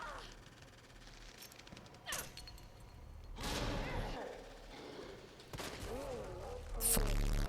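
Gunfire during a boss fight in a Resident Evil video game: several sharp shots and bursts ring out at irregular intervals over a busy game soundtrack, with occasional voice sounds.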